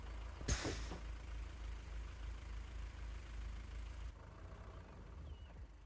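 A bus engine idles in a roleplay video game with a steady low rumble, opening with a brief hiss like an air brake release. The drone continues at moderate, even loudness throughout.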